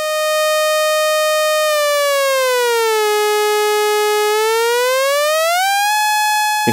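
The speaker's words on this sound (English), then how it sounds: "A sawtooth wave is even harsher." Bright, buzzy sawtooth wave from a modular synth oscillator, sustained loudly on its own while its pitch steps and glides down, holds low, then rises back up.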